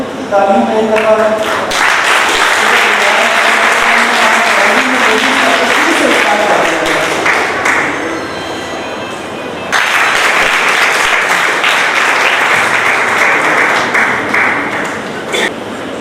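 An audience applauds Riyaz Sahab with sustained loud clapping, starting under a brief spoken voice, dipping slightly midway, then swelling again and continuing to the end.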